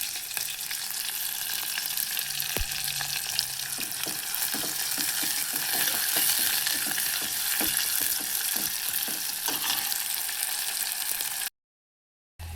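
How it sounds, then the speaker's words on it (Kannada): Onion, green chillies, peanuts and half a potato sizzle steadily in hot oil for pulao, a dense continuous frying hiss with occasional stirring clicks, close and loud, with no talking, ending abruptly. "ಹಾಗೆ ಒಂದು ಅರ್ಧ ಆಲೂಗಡ್ಡೆ ಹಾಕ್ತೀನಿ, ಸಾಕು"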